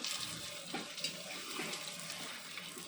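Water runs in a steady splashing stream, like a tap flowing into a pot or sink while a simple home dish is cooked; it holds fairly even for the whole span with small splashy bumps.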